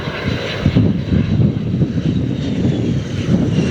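Aircraft engine at idle thrust just after touchdown on the runway at Lihue airport in Hawaii, a steady low rumbling drone from a distance, with some wind buffeting on the microphone.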